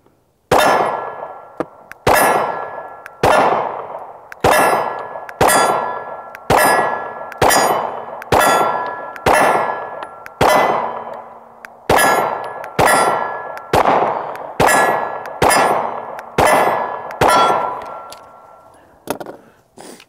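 Repeated pistol shots from an Arex Delta L, each crack followed by the ringing clang of struck steel targets, about fourteen evenly spaced shots fired close and loud over twenty seconds with no talking.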